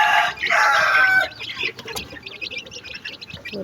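Chickens and month-old chicks at feeding time, a loud close hen squawk followed by a busy chorus of high chick peeps and soft clucks.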